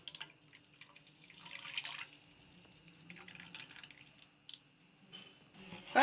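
Milk made from ground rice and sugar, for coconut halwa, is poured through a strainer in soft, intermittent trickles and drips, faint and close, with light squishy liquid sounds and no speech.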